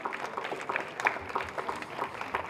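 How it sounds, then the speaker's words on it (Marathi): Audience applause for student Kavya Sawant, named outstanding creative student at a primary school annual gathering, steady clapping that holds for the whole stretch at moderate volume. "जोरदार टाळ्या झाल्या पाहिजे काव्यासाठी"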